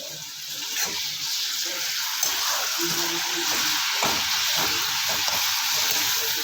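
Fenugreek greens stir-fried in oil in a pan, giving a steady close sizzle and crackle with the scrape and toss of stirring running through the whole stretch.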